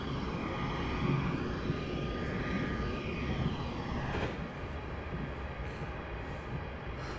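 A Class 350 electric multiple unit running on the West Coast Main Line Trent Valley in a train simulator game, giving a steady, dense rolling and motor roar that eases slightly partway through.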